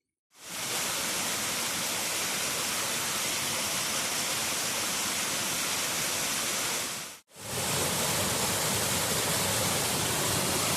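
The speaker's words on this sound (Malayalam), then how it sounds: "അതിമനോഹരമായ വെള്ളച്ചാട്ടം കാട്ടിനുള്ളിൽ" A small waterfall inside a forest gives a steady, broadband rush of falling water, loud and close. It runs continuously with one brief dropout partway through, and no talking is heard.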